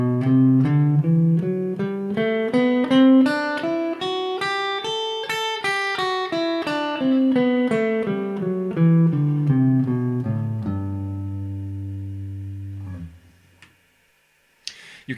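A guitar plays a major scale in first position, a rising and falling run of evenly picked single notes ending on a ringing held note, clear and solo with no voices.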